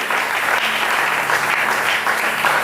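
Church congregation applauding the Lord during a Sunday service, dense steady clapping from many hands filling the room, loud and continuous with no break.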